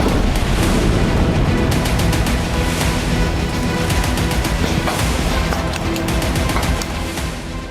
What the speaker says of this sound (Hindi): आतंकियों के ठिकानों पर बमों की बौछार